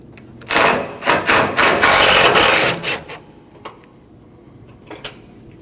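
Two T30 bolts being removed from the hood latch support of a Nissan NV2500 van, a loud ratcheting buzz of a power tool for a couple of seconds, then a few faint metallic clicks and taps close by.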